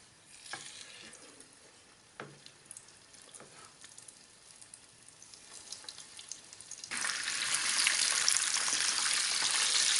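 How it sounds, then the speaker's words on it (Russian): Tatar peremyachi, meat-filled pastries, drop into boiling oil, with a few soft clicks and taps before a loud, steady sizzle of deep frying surges up and continues to the end. "Готовые пиремечи отправляем в кипящее масло"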